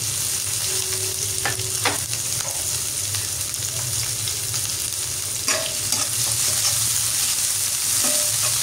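Onion, green chili and chopped garlic frying in hot oil while being stirred. A continuous close sizzle runs throughout, broken by a few sharp spatula scrapes and clacks against the pan, with no voices.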